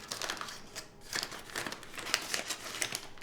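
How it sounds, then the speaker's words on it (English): Plastic bag of frozen hash browns being cut open, giving close, quiet crinkling and rustling of the packaging in short bursts, with no talking. "So I'll just cut the top of this off."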